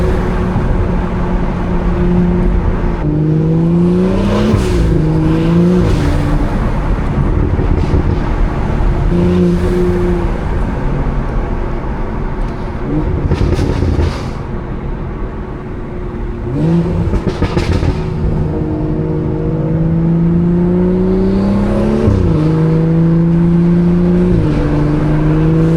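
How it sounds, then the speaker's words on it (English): A 500 whp BMW with a B58 engine driven hard, its intake roaring and pitch rising and falling through repeated revs and gear changes, with crackling burbles off throttle, loud and continuous from inside the car. "Listen to that intake,"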